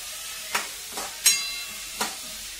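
Boiled cauliflower being sautéed and stirred in a hot pan, with a soft sizzle under four sharp scraping clatters of a spoon against the pan, spaced unevenly and close by.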